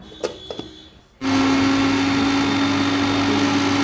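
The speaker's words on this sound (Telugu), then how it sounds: "మిక్సీ జార్లో వేసుకొని మనం మెత్తగా పేస్ట్ చేసుకోవాలండి" A mixer grinder whirs loudly and steadily, blending chutney paste in a mixie jar; a few soft knocks come first, then the motor starts abruptly and runs alone at full volume.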